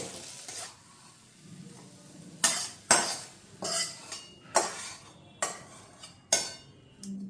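A spoon scrapes fried posto (poppy seed) masala from a hot pan into a bowl: about eight sharp metallic scrapes and clinks in an uneven rhythm over a soft, fading sizzle.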